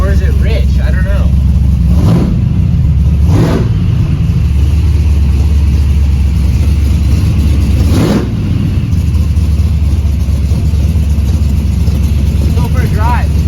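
Chevrolet C10 truck engine idling a little lean, a steady loud low rumble throughout with brief rises around a few seconds in, while a voice talks over it.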